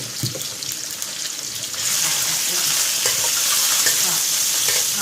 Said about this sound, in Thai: เราก็จะผัดนะคะ อย่าให้เหลือง้ากนะคะ เราก็ใส่หมูลงไปเลยนะคะ